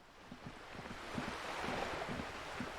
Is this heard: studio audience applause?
no